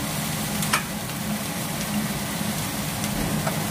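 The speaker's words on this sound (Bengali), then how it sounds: "পেঁয়াজটা এখন একটু ভাজা হবে।" Onions fry in oil in a pan, crackling and sizzling steadily, with occasional sharper pops over an even frying hiss.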